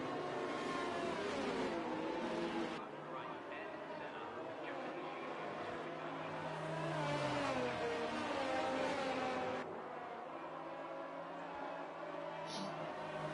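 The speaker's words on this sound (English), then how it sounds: "Safety car territory, the Aston Martin safety car. Listen to that burbling V8." Low burbling V8 of the Aston Martin safety car in the F1 2023 racing game at the Japanese Grand Prix, a steady engine drone rising and falling under continuous commentary talk.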